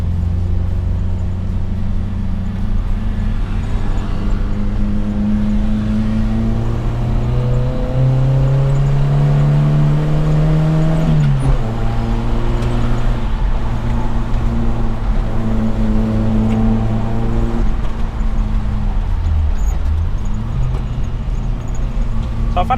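A Suzuki Jimny Katana engine drones loudly from inside the cabin as it accelerates on the road, the revs climbing in steady steps with gear changes, a continuous close hum throughout.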